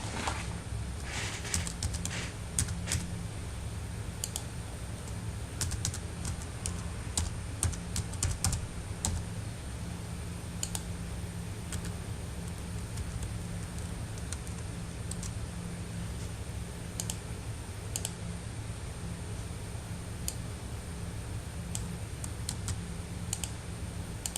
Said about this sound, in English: Begin typing your information into the table.